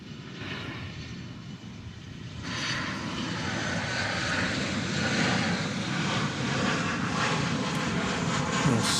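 A heavy jet airliner arrives at DFW Airport, its engines a broad, steady roar that swells a few seconds in and then holds loud and continuous, with no voices over it.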